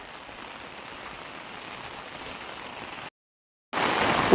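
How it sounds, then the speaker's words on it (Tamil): Heavy rain pours down in a village, a dense, even hiss close by that cuts out briefly for a moment and then returns louder. "மழை மழை நொறுக்கி தள்ளுது"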